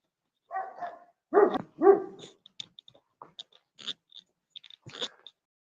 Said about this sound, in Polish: Tak wygląda, pieski szczekają.